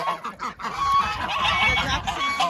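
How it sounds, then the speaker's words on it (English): Ducks and geese honk and squawk angrily in a dense, continuous chorus close by, outside a chicken coop, with no talk over them. "The ducks and geese are a little angry."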